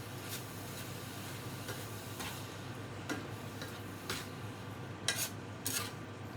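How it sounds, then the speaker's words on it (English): Hamburger meat mixture for a keto lasagna is stirred with a kitchen utensil, giving soft, sparse scraping clicks and taps against the bowl over a low steady background hum. "So I'm going to mix this right in with my hamburger now. And then stir it up."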